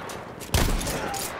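Battlefield 1 gunfire: a burst of sharp, loud shots erupts midway, followed by a ringing rumble and faint scattered distant fire, without talking.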